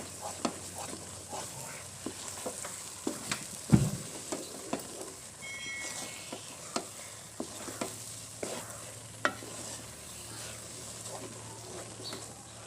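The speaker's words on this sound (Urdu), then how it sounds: "اسے مسلسل ہلاتے جائیں گے۔" Faint, steady scraping and soft knocks repeat as Punjabi desi halwa is stirred and roasted in a pan, over a low sizzle.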